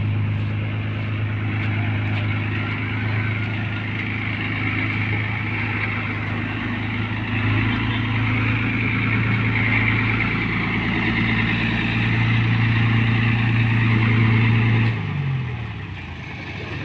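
Heavy driving-school vehicle with a long chassis doing T-manoeuvre practice in southern Kerala hums with a steady low engine drone throughout, then idles down near the end.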